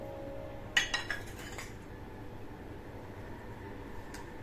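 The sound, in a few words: mixing grated jaggery in a bowl with a utensil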